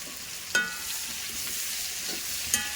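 Onion frying with mustard seeds and curry leaves in a pan for chicken curry: a steady broad hiss of sizzling oil with a couple of brief clinks, no voices.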